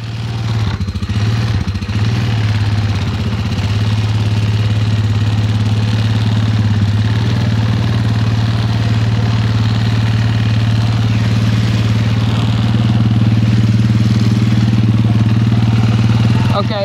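A vehicle engine drones loud and close in a mud bog, a steady low rumble with slight rises as it strains while stuck, running continuously with no talk over it.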